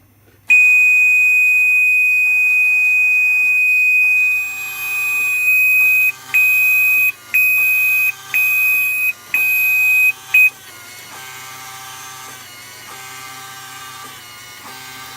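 A Gent Vigilon fire alarm panel in test mode gives a long steady high beep, then a run of evenly spaced short beeps before falling quiet, loud and close with no talking.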